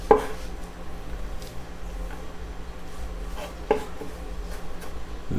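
A knife chops garlic cloves on a board, with a few sharp, close knocks spaced several seconds apart over quieter rubbing and scraping between cuts.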